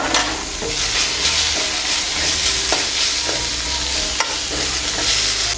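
A tomato sauce mixture being stirred in a hot pan for homemade wheat noodles, the sizzle running continuously under repeated spatula scrapes and clicks, close and fairly loud.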